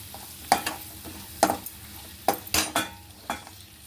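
Skin-on potatoes frying in a curry pan, stirred with a few separate scraping strokes over a low sizzle, close and moderately loud.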